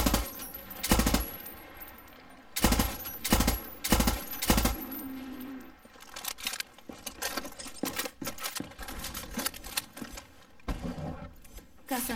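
Heavy gunfire from a stronger weapon in Far Cry 6, sharp loud bursts in clusters early on, then scattered shots and rattling action continuing over a dense game soundscape.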